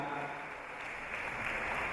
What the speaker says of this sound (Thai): ขอเสียงปรบมือให้กับคุณครูชุรีพรนะครับ